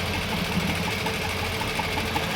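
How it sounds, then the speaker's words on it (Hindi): A sewing machine stitching the top edge of a trouser hem lining, running as a steady, close, rapid mechanical whirr with a fast regular needle pulse throughout, with no voices. "सबसे पहले अस्तर को हल्का सा खींचना है और ऊपर के किनारे की सिलाई लगानी है"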